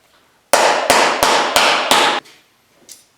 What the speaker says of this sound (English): I'm just going to smooth it out right here on the sandbag with the mallet a little bit